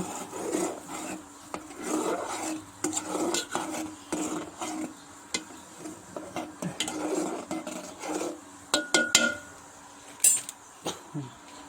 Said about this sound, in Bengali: নামাই নেওয়ার আগে আর একটু আমরা ভালো করে নাড়াই চাড়াই নিব।